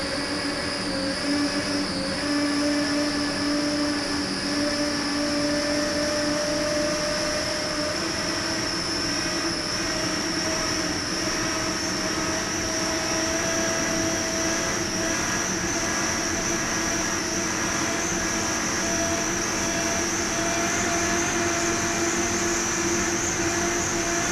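On board the 2002 Bacardi Silver race powerboat, its engine roars in a loud, steady, unbroken drone with a constant whine running throughout, and no voices.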